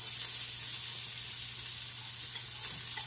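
Chopped onion and green onions sautéing in hot cooking oil, a steady close sizzle with crackling that holds evenly throughout, with no voices.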